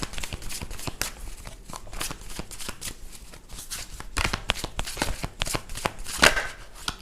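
Tarot cards are shuffled by hand close up in a quiet room, a rapid run of soft riffling flicks and slaps with a few sharper snaps.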